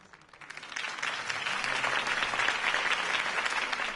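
Applause from a crowd in the Batman video game swells from a faint start into steady, dense clapping that holds for several seconds.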